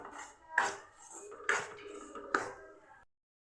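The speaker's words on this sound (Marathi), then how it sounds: "मी हा रवा भाजून घेते" Semolina being dry-roasted and stirred in a pan over a low gas flame, with a spoon scraping the pan in three distinct clanking strokes over a steady, close, scratchy background.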